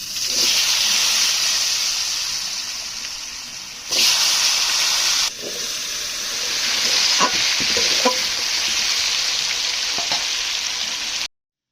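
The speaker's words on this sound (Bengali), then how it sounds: "তেল গরম হয়ে গেছে তেলের উপর আমি জিরেগুলো দিয়ে দেবো এগুলো সুন্দর করে ভেজে নেবো" Cumin seeds sizzle and fry in hot oil for a Bengali pangas fish curry, a loud steady hiss with occasional stirring bursts and crackles, then a sudden cutoff at the end.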